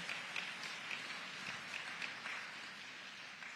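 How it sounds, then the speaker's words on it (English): Soft, fairly distant applause from an audience at a masterclass event honouring Sir Lynden Pindling, greeting a musician and attorney; scattered claps sound faint and thin, steady for a few seconds. "Give him a round of applause."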